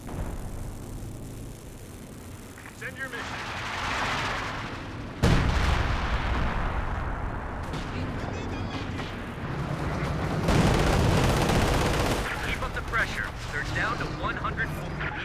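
Creeping barrage artillery in the video game Company of Heroes 2: heavy shell impacts and booming detonations roll on through sustained battle noise, with sharp louder blasts breaking in and speech faintly underneath.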